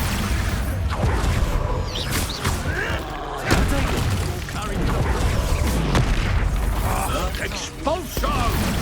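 Spell blasts and bursts from Hogwarts Legacy combat, including the Expulso explosion spell, heard as repeated booming impacts and crackling magical effects over continuous busy game noise, with a voice talking over the action.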